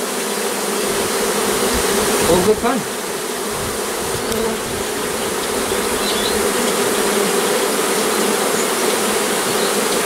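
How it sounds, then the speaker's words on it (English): A dense, steady buzzing of many honeybees dropping into a hive box during a cutout from a possum box fills the whole stretch, with a brief louder burst near the start and a few quiet words spoken underneath. "Bees have dropped into the box."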